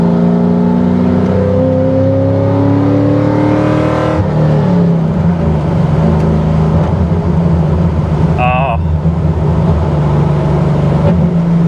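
A Pontiac GTO with a six-speed manual roars under hard acceleration from inside the car, its exhaust droning loudly as the engine climbs through revs, drops on a gear change near the midpoint, then pulls again.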